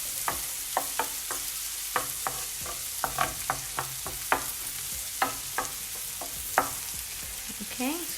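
Food cooking in butter in a pan is stirred with a utensil, producing a steady low sizzle under a string of light, irregular scrapes and taps close by.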